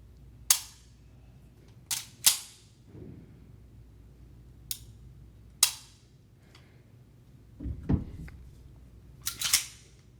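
Dry-fire trigger pulls on a Kimber Prodigy 1911 pistol: a series of sharp, close metallic clicks, some in quick pairs, spaced irregularly over a quiet background with faint handling noise.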